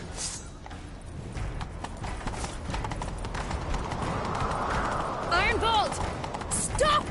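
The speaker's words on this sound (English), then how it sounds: "Grab a horse, we'll chase him down." In the video game Witcher 3, a horse gallops with rapid, continuous clip-clop hoofbeats, rising slightly in loudness, mixed with game ambience and brief whooshing effects.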